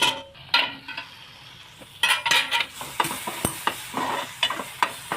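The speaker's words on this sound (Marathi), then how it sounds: "मसाला आणि तेलामध्ये फ्राय करून घ्यायचं" Ground masala frying in oil in a pan for dry prawn curry, a close sizzle broken by repeated clinks and scrapes of a spoon against the pan in an uneven rhythm, with no talking.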